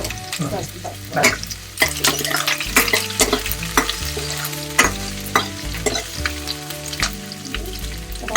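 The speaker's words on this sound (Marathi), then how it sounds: "अच्छा दोन सुक्या मिरच्या टाकायच्या आता" Dried chillies tossed into a hot pan while making sambar, giving a crackling sizzle with repeated scraping stirs and clinks of a spoon against the pan.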